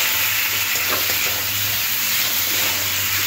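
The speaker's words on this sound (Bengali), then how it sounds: "দেওয়ার পরে আবার মশলার সাথে এই পটল আলুটা একটু কষে নিতে হবে।" Pieces of pointed gourd and potato are stir-fried in spice paste for a Bengali fish curry, giving continuous loud close sizzling with scraping stirring strokes throughout.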